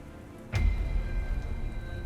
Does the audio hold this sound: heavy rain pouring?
yes